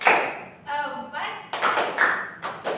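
Classroom children clap hands on a woman's counted cues, a quick series of three or four bright group claps near the end, preceded and overlapped by her speaking voice.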